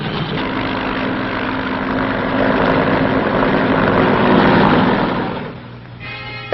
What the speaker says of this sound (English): Fleets of helicopters lift men and artillery into the hills surrounding the base.